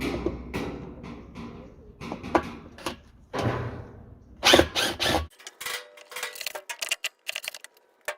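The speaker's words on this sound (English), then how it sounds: "take a Phillips and remove the six screws" A Phillips screwdriver removes six screws from the drive hub area of a Whirlpool/Maytag washer: scattered clicks, taps and short scraping rattles, close and intermittent, growing into quick ticking bursts with no voices.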